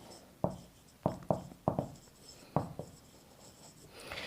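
Writing on a board during a maths lesson: a series of sharp, scratchy strokes in irregular bursts, close and fairly clear, with no talk over them.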